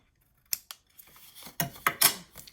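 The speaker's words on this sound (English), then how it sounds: "So I'm just going to trim mine just a little bit." Several crisp snips of scissors trimming paper for a mini paper craft album, close and quiet, coming in short irregular cuts with no talking.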